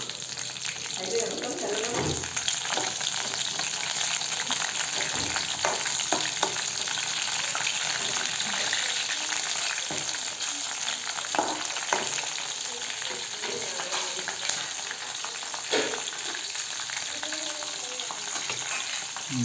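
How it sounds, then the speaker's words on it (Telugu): Green chillies frying in hot oil for chicken biryani, giving a loud, continuous sizzle with occasional stirring scrapes throughout. "కొన్ని పచ్చిమిరపకాయలు వేస్తున్నాం"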